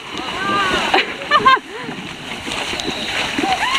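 A horse wades through deep water on a hot-day trail ride, its legs churning up close, sloshing splashes with a few louder surges, while the rider talks excitedly over the noise.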